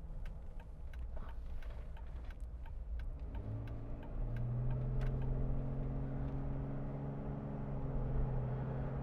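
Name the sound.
2014 Jeep Wrangler Unlimited Sahara accelerating through gears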